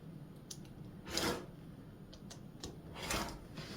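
Scissors or a blade cut a 6.5 inch fabric square for a scrappy quilt, with a few quiet, brief slicing and rubbing strokes spaced apart in a hushed room.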